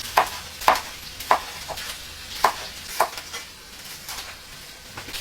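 Garlic and onion go into a pan with bacon-cut pork belly, followed by a light sizzle and a series of sharp spatula taps against the pan at roughly half-second intervals, close and clear with no voices.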